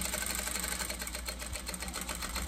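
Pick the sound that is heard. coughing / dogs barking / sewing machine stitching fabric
sewing machine stitching fabric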